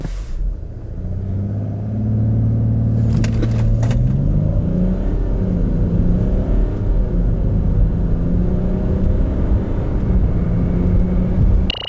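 A 2018 Land Rover Discovery TD6 pulls away hard from a standstill: a loud, steady engine drone swells after about two seconds and keeps climbing under full acceleration. No one speaks.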